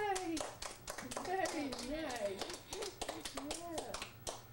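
A small group, including children, claps hands in quick, uneven taps close by while people chatter and a voice sings over the clapping.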